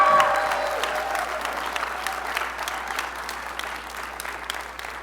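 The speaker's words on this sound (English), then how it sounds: "Can I just get one more round of applause for these guys for being willing to share their stories?" Audience applause fills a live talk venue, a dense steady patter of many hands that starts loud and slowly eases over five seconds, with a faint voice briefly audible at the start.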